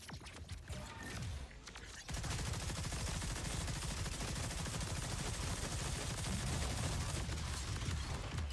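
A gun in the video game Borderlands 4 fires continuously in a dense, loud, sustained roar that starts abruptly after a quieter moment and runs steadily to the end.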